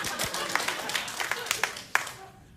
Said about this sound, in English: So there's 2 rounds of applause in this segment.